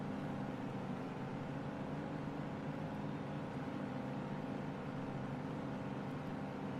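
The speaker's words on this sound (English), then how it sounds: "Sounds like both trucks are on the converter." Heavy truck-pulling engines roar steadily on a long dirt track at an outdoor pulling competition, both trucks running on the converter with a dense, continuous low drone from a distance and no talk.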